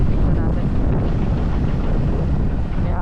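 Steady, loud wind at a beach buffeting the microphone, a continuous low rumble with no clear breaks throughout.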